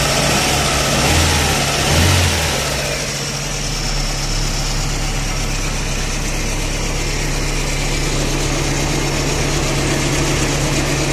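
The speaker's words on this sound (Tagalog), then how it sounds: "yung maingay na idler bearing at saka tensioner" A car engine with a noisy idler bearing and tensioner runs at a steady idle, a dense broadband whir and hum that is loud and close. A slight swell comes near the start, then the sound holds even throughout without talk.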